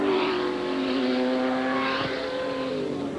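A turbocharged 3-liter Porsche 962 race car at Lime Rock Park screams past at high revs, a loud, steady engine drone with a slight pitch shift, heard alone.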